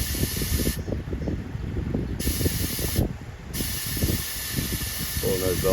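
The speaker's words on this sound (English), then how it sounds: "Now we'll pull a vacuum down, and this line right here is going to throw coolant out." Vacuum pulls coolant and air through a split radiator line on a 2015 Chevy 2500HD 6.0 flex-fuel truck, giving loud hissing spray bursts that cut in and out over gurgling, spitting sounds close by.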